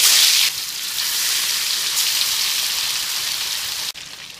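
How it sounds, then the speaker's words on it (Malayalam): Marinated fish pieces shallow fry in a quarter cup of hot coconut oil, giving a loud, close, hissing sizzle that is sharpest at first and then holds steady before cutting off near the end. "ഇതിലോട്ട് നമുക്ക് മാരിനേറ്റ് ചെയ്ത് വെച്ചിട്ടുള്ള ഫിഷ് പീസ് വെക്കാം."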